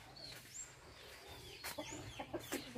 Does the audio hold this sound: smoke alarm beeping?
no